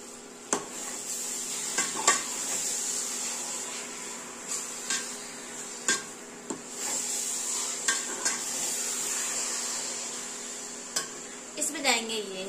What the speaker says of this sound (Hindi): ये गया इसमें घी, और इसको हम अच्छे से मिक्स करेंगे